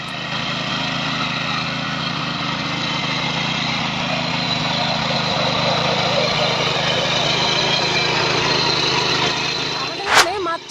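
A small soil tilling machine's engine drones continuously nearby at an even, buzzing pitch, ending in a brief louder clatter.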